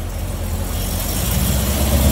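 A Corvette engine rumbles steadily at idle, a loud, close, low throb with broadband roar that swells slightly toward the end, with no talk over it.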